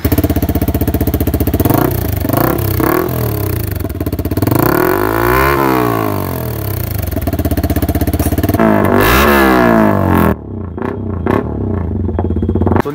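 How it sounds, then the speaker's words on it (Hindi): Yamaha MT15 motorcycle with a loud aftermarket exhaust, revving hard in repeated sweeping bursts that rise and fall, close and dominant throughout with a brief drop near the end. "सुन लिया आपने साउंड इसकी, टू मच लाउड साइलेंसर आपका।"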